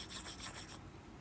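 Rubbing rasp of writing being erased from a board during a chemistry lesson, a steady scrubbing rhythm for most of a second, then fading to quieter scratches, with no talk.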